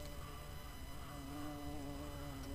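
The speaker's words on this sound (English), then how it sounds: "A bee wants to get in." A bee hovers and buzzes near an open window in a steady, continuous drone, close and fairly loud, with no speech over it.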